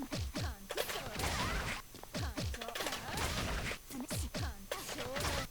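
Explosion attacks in a fighting video game land as a rapid series of sharp whacks and crashing bursts, repeating in quick irregular bursts of in-game impacts at moderate level.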